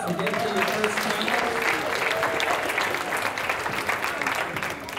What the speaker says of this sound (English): Alright, give yourselves a round of applause